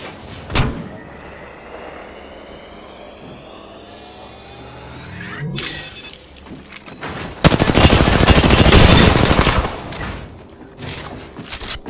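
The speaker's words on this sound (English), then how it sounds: "They're shooting at me!" Gunfire rings out in a solo-versus-squads shooter video game: scattered single sharp shots come first, then a loud, dense burst of rapid automatic fire that lasts a few seconds, with more shots trailing after.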